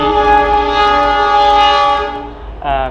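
A train passes close to a railway station, a loud sustained horn blast with rumbling rolling noise underneath, fading toward the end before a brief second horn note.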